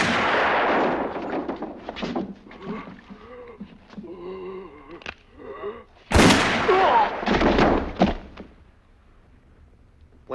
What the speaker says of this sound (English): Tuco shoots with his bubble-covered pistol before the man can finish.